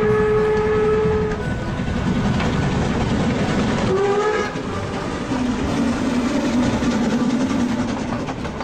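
Steady rolling train rumble with rail clatter in the video game The Night of the Rabbit, a tonal whistle sounding briefly early and again mid-clip, loud and continuous with no talk.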